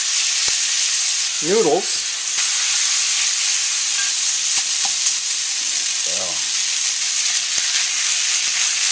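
Pork, bok choy and sliced scallions sizzle steadily in a hot pan for a ramen stir fry, a constant close hiss with a few brief voice fragments over it.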